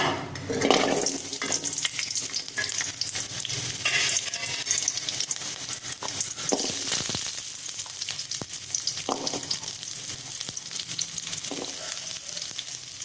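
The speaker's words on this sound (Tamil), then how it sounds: "ஒரு வானலில் எண்ணெய் ஊற்றி எண்ணெய் காஞ்சிருச்சு. இப்போ அதில் வெங்காயம் சேர்த்துக்கலாம்." Small onions fry in hot oil in a pan for an eggplant curry, a loud continuous crackling sizzle with rustling stirs and occasional metallic scrapes close by.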